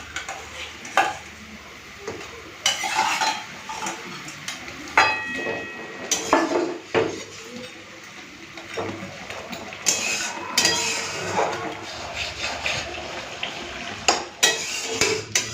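Fried fish pieces going into a boiling sour tamarind fish curry in a pan, with repeated scraping and clinking of a spoon, bubbling sizzle underneath, close and fairly loud throughout, no voices.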